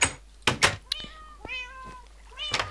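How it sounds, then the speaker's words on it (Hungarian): Several distinct cat meows from a Minecraft game, spaced apart with gaps between them and mixed with a few sharp clicks and thumps. "Mi a szart nyávogsz?"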